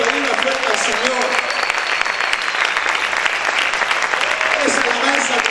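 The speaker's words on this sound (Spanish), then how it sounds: "¿Cuántos pueden aplaudir una fuerte al Señor?" Church congregation applauding loudly in praise, with dense continuous clapping and voices rising and calling out over it.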